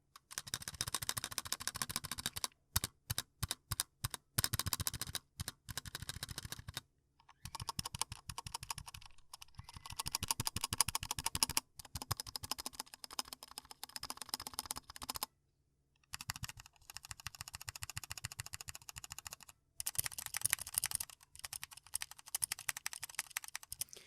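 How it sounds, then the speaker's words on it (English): Spacebar presses on a 60% mechanical keyboard, an Anne Pro 2 or Glorious MMK: close, crisp clacking strokes in quick bursts and single taps, separated by brief silences. "I'm going to be showing you guys what the spacebar sounds like"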